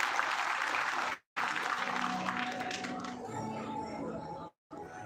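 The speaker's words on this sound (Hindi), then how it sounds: "इस बच्चे का बहुत बहुत ताली बजेगा" An outdoor festival crowd at a religious event in Nokha claps steadily for a child on stage, a dense sustained applause that thins slightly toward the end, with two brief dropouts.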